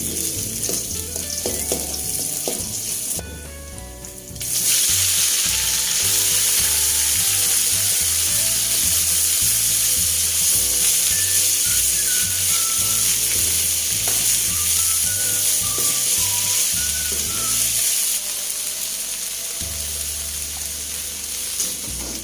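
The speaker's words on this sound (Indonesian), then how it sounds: "Tumis sayur bayam ya Bunda ya." Spinach stir-fried in a hot pan gives a loud, continuous sizzle with scraping and clattering from the stirring utensil, and no voices are heard.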